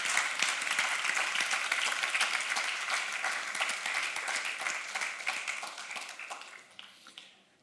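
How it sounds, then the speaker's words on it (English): Audience applause at an open-source software community event, many hands clapping in a dense, sustained wave that holds steady for several seconds and then fades out toward the end. "I would like to ask you for a really short round of applause for those guys"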